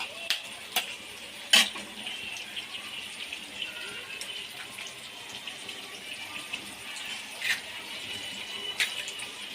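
Three cracked eggs are stirred together in a hot pan for home-style egg rice: a soft, steady scraping with a faint sizzle, broken by a few sharper clinks of the utensil against the pan.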